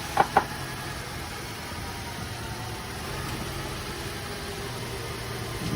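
A 2014 Nissan Sentra running after a jump start, with a low steady idle hum. Two sharp clicks come early on, then the engine drones on evenly at moderate level.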